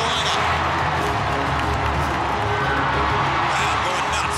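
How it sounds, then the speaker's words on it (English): A packed arena crowd at a Gamecock women's basketball game in the SEC Tournament cheers and whoops loudly and steadily throughout, a dense roar of many voices with shouts rising above it. "Crowd going nuts"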